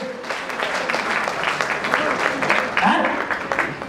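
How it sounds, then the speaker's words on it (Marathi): Audience clapping for a performer named Vaishali at a Marathi stage event, a steady broadband patter with cheering voices and speech mixed in, continuing throughout. "प्लीज वैशालीसाठी जोरदार टाळ्या होऊन जाऊ दे"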